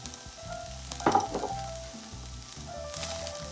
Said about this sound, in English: Once the turkey was halfway cooked, I stirred in the broccoli, followed by the coleslaw mix.